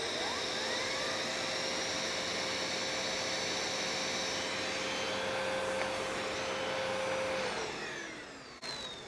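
A Miele bagged vacuum cleaner converted with a cyclone diverter runs at maximum power with a turbo brush attached, giving a loud, steady whining roar that holds for about eight seconds before winding down near the end.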